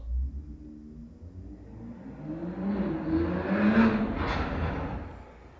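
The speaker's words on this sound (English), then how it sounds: "Plane." An airplane flying overhead above a tropical island, a broad whooshing roar that swells gradually to a peak and begins to fade, heard alone with no talk.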